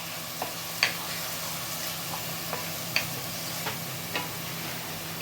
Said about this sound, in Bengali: পেঁয়াজ বাটাটা একটু নাড়াচাড়া করে ভাজা করে নিতে হবে।